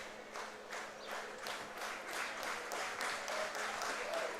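Baseball crowd at an IBL game between the Barrie Baycats and London Majors, clapping steadily in broad, diffuse applause that swells slightly over a few seconds, with no clear talk on top.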